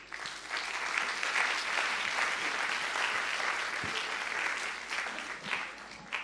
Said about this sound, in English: Let's give Mr. So another round of applause for a great sharing.